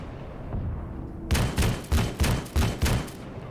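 Gunfire from Arma 3 infantry combat: five or six heavy, evenly spaced shots crack out in a steady rhythm after a quiet rumbling lead-in, loud and close with booming low thumps.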